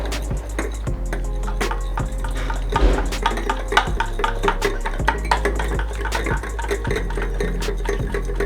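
Chicken being mixed by hand in a bowl with egg, paprika, salt and black pepper, giving repeated soft wet squelches and light clinks against the dish in a steady rhythm.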